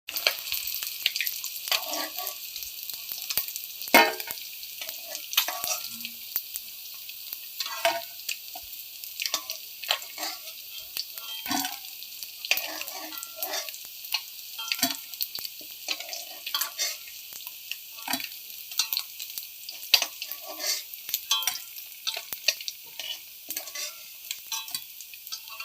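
Sole fish frying in a pan, a steady hissing sizzle with scattered crackles and pops continuing throughout, close and moderately loud with no talking.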